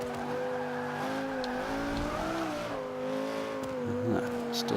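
A 2005 Honda NSX-R driven in Forza 5, its engine droning steadily with pitch wobbling through a turn, while brief tire squeal and scuffing rise near the end.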